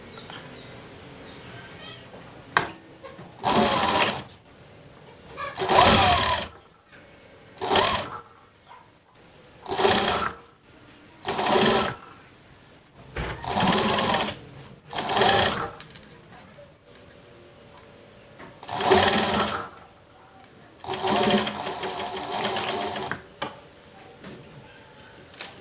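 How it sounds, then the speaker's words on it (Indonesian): A sewing machine stitches along a waist seam in repeated short bursts, about a dozen runs of one or two seconds each separated by quiet pauses, with some speech in between. "Lanjut kita jahit di tengah-tengah sambungan pinggang"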